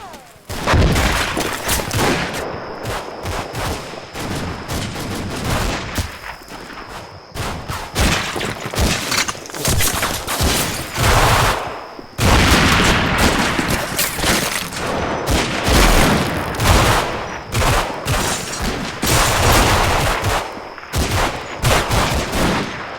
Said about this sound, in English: Overwhelming firepower is brought to bear from multiple directions.